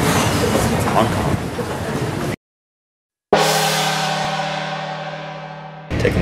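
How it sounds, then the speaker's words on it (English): Noisy rumble of a moving train into Hong Kong, then a sudden silence and a steady, fading mechanical hum with a tonal whine. "Taking the train into the city."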